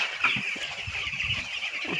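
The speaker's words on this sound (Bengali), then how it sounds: "দেখো আমাদের মুরগি বাচ্চাকে এখন খাবার দেওয়া হচ্ছে।" Baby chicks peep constantly in a thin, high chorus while being fed, with soft low knocks and shuffling underneath.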